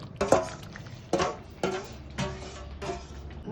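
Jackfruit curry being stirred in a pan, giving five separate scraping, squelching strokes at a steady rhythm, close up and fairly loud, with a low hiss underneath.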